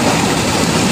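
A water pump engine runs in a steady, loud, continuous drone with a rough rumbling hum and no breaks.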